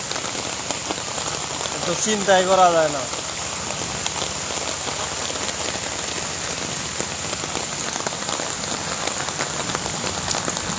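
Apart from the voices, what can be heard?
heavy morning rain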